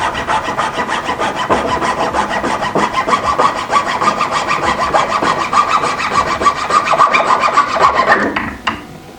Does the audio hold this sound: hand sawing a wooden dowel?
yes